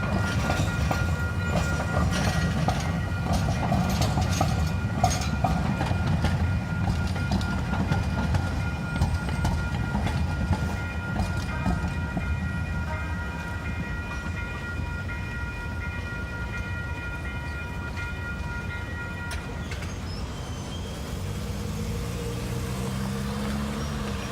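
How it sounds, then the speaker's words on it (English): A train rumbles past with a steady rolling roar and metallic squeals near Coronado and San Diego, easing toward the end as it moves on. "Train will probably be coming from over there."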